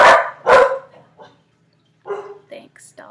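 Two sharp, loud dog barks close by, followed after a pause by softer yips and whimpering sounds.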